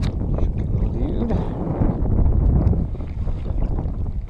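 Gusting wind buffets the microphone with a low, steady rumble at a lake, rising slightly midway, with faint background sounds underneath.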